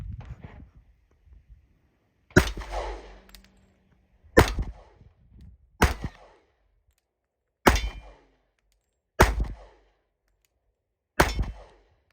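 Six sharp Glock pistol shots at an outdoor range, spaced a couple of seconds apart, each a loud crack with a metallic clang from a struck can and a short ringing tail.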